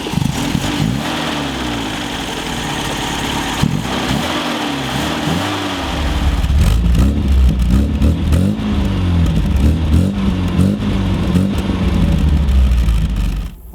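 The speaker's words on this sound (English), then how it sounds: "let's start the engine up, let's go for a drive" A 1970 MGB sports car engine cranks, catches and idles, then revs and pulls away, a loud close rasping four-cylinder note with uneven throttle blips and a deepening rumble as it drives off.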